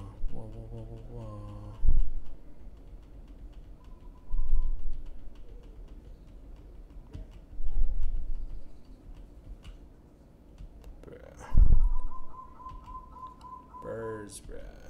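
Birds coo and whistle in Roblox Lumber Tycoon 2, a few soft calls repeating over steady ticking of many clocks, with low game ambience throughout.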